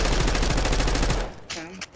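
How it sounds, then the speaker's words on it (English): Rapid automatic gunfire from an enemy marksman in the video game Black Ops 6, a loud dense burst of evenly spaced shots that stops abruptly, followed by fainter game sounds. "Enemy marksman shooting."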